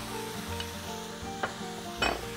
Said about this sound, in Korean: 고기를 졸여줘야 돼요